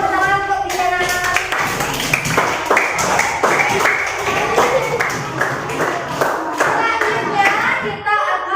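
Schoolchildren in a classroom clap their hands in a loud, sharp burst of rhythmic claps lasting several seconds, with children's voices chattering underneath.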